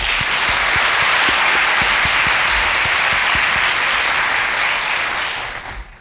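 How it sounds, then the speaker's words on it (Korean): Sustained audience applause fills a matriculation ceremony hall at POSTECH, a dense, steady roar of many hands clapping throughout before tapering slightly at the end. "뜨거운 박수로 맞이해 주시기 바랍니다"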